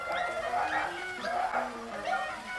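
A small puppy gives a run of short, high-pitched yips and whimpering cries, close and fairly clear, over faint background noise.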